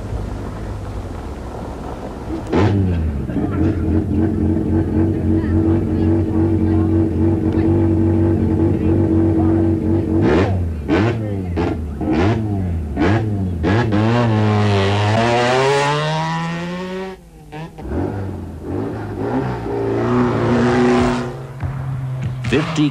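Rally cars at the 1987 Venda Sun 500 start in the Venda Hills, engines idling and then revving hard through rising gear shifts as cars pull away one after another, loud and close.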